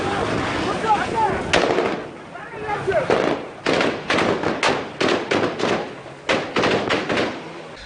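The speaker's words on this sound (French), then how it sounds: "des coups de feu qui ont créé une vive panique dans la ville de Bamenda" Gunshots ring out in the city of Bamenda during unrest, with a rapid, irregular string of sharp reports, some in quick clusters, heard from a moderate distance over low background noise.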